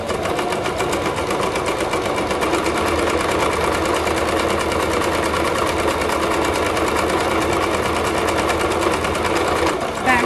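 A sewing machine zigzag-stitches a hem on a pair of girl's leggings with a loud, fast, continuous mechanical whir. It runs for about ten seconds without a break, close to the listener.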